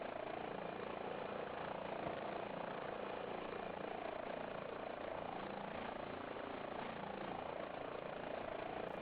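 A helicopter in a flight simulator video game flying, a continuous, even engine and rotor drone that stays loud and unchanging throughout with no distinct blade beats.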